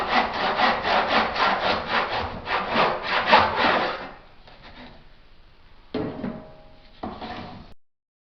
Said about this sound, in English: When cutting your cornice in your mitre box, arrange things so that your saw is cutting into the front of the cornice rather than cutting from the back.